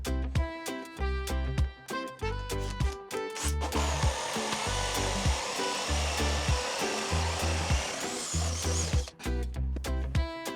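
A hole saw cuts a pilot hole in wood, a steady whining grind lasting about five seconds, heard under loud rhythmic background music that plays throughout.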